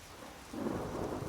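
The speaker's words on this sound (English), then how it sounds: "Here we are again in the pouring rain outside of Falkreath." Pouring rain in Skyrim, outside Falkreath, makes a soft, steady hiss. A low rumble of thunder swells about halfway through the brief, quiet stretch.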